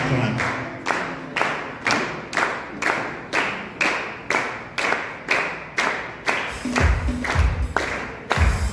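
Wedding guests clap together in a steady, evenly spaced rhythm, about two claps per second, loud and close, with a few heavier thumps and some looser clapping toward the end.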